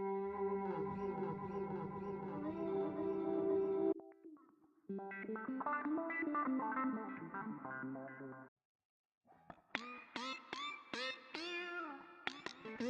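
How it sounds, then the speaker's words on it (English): An electric guitar through a Zoom G1 Four multi-effects pedal set to weird reverse and swelling patches, loud distorted chords swelling in and cutting off in sections, then brief silence and a run of reversed, swelling notes. "you get some weird effects like reversing and padding and swelling"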